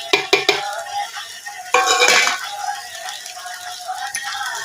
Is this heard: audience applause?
no